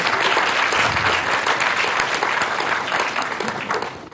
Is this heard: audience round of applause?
yes